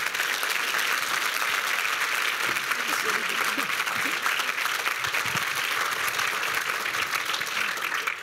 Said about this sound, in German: Ich darf um einen Applaus ersuchen für Evelyn Regner.